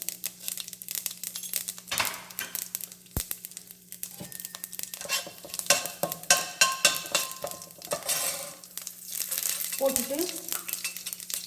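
Cumin and fenugreek seeds crackling in hot oil for idli sambar: busy close sizzle and popping with crinkly spatters and occasional utensil knocks, under a low steady hum, with a brief voice partway through.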